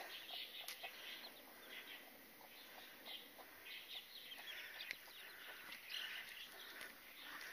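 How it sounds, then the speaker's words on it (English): Chicken with her chicks outdoors, giving soft, scattered clucks and small peeping calls that rise and fall at a moderate distance over a steady background of birdsong, with no talking. "Hello, chicken. And all the little babies."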